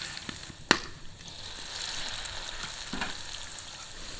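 Dough twists (mahua) dropped into oil at medium heat, a sharp splash followed by a steady crackling sizzle that swells as the frying settles in, close and alone.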